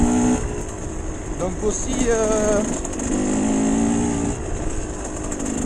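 KTM 125 EXC enduro motorcycle being ridden home after an 80 km ride, its two-stroke engine droning steadily with rising whines as the rider shifts, heard close under a rider speaking French.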